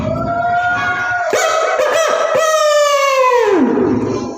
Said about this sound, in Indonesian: terdengarlah suara kokok ayam jantan